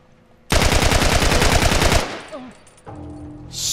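Rapid automatic gunfire from a heavy weapon in The Last of Us, a loud sustained burst of about a second and a half, followed by softer clatter and game sounds.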